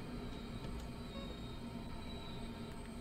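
A DB BR 111 electric locomotive hauling a long train in a railway simulator, rolling steadily through a station with a continuous low rumble and faint wheel noise throughout, no voices.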